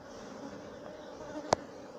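Honeybees buzzing as they are shaken out of a queen-rearing frame, a close, steady hum with one sharp knock partway through.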